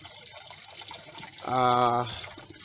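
Water pours from a garden hose into a barrel pond with a fine irrigation mesh at its end, a brief steady gush lasting about half a second amid background noise.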